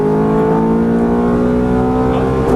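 A Ferrari F430 on the Exotics Racing track in Las Vegas howls with a loud, sustained high-revving engine note that holds steady, then shifts pitch near the end.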